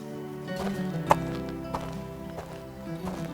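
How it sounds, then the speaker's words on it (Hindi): Horses being driven off at a gallop, their hooves clip-clopping in a few sharp, scattered strikes beneath a sustained musical score in a dramatic scene. "तभी तो घोड़ों को भगा दिया मैंने।"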